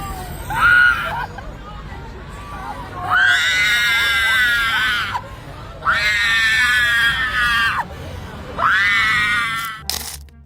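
A woman perched on a car hood at a protest screams in several long, loud, strained bursts separated by short pauses.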